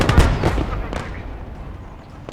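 A thrown grenade goes off in the video game Gates of Hell, near an armored transport. A sharp burst of several close, loud cracks and thumps is followed by a rumbling decay.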